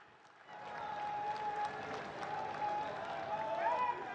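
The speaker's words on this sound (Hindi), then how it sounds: "आओ जोरदार तालियां नाल उन्हां दा स्वागत" Loud, sustained applause from a large crowd welcoming Prime Minister Narendra Modi at a public meeting in Jalandhar, Punjab, rising after half a second and continuing steadily, with cheering voices mixed in.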